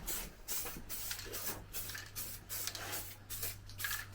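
Spray paint hisses onto a Honda C90 motorcycle part in short rhythmic bursts, about eight quiet, evenly spaced passes over a low background hum.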